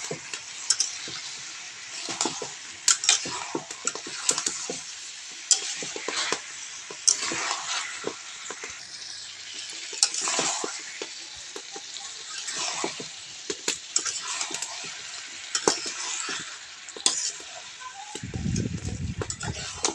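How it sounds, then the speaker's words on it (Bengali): Meat stir-fried in a pan with potatoes fried earlier, giving a steady sizzle broken by frequent scraping and tapping strokes of a spatula, close and continuous. "ভেজে রাখা আলুগুলো দিয়ে আরও কিছুক্ষণ কষিয়ে নেব।"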